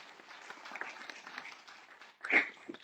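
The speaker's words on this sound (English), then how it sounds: "I think we give them a big round of applause to make it good." Audience applause at an evening program, a soft, scattered patter of hands clapping that ends in a brief louder burst near the end.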